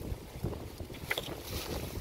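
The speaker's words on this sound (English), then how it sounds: "A bit windy today." Wind blowing through woods, a soft continuous rush with faint gusts and light microphone buffeting, quiet and without voices.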